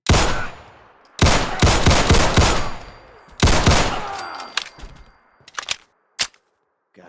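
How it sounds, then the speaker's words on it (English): Automatic weapon loaded with explosive rounds in Fallout 4 fires in two loud sustained bursts, each followed by booming blasts, then a few scattered single shots and bangs before falling quiet. "It is automatic and using explosive rounds, and it's blowing them up."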